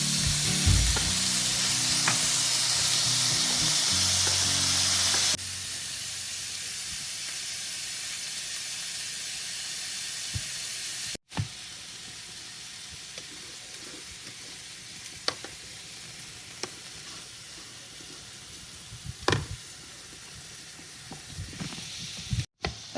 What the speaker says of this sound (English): I've got 4 2-ounce patties because I kind of figured we, or at least you, would eat 2 of them.